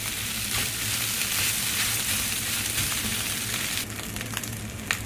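Village-style fried rice with chicken fillet sizzles steadily in a hot pan as it is stirred, a constant close crackling hiss with no talking.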